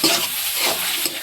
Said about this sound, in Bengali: ভালো করে একটু নাড়িয়ে চাড়িয়ে ভেজে নেব।